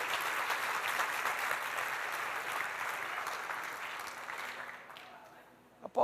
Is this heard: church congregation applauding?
yes